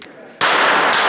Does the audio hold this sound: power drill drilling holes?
no